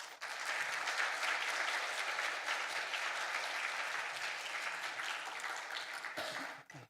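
A church congregation applauds steadily to welcome an elder to the front, a sustained wash of clapping from many hands that fades off near the end.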